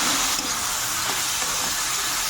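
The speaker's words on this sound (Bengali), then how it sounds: "এখানে গ্যাস কড়াইয়ের মধ্যে সমস্ত সবজি একসাথে দিয়েছি এবার এগুলো একসাথে আমি ভাজবো" Cabbage and mixed vegetables fry together in a gas-heated wok for homemade chow mein, giving a loud, steady hiss that continues without a break and with no voices.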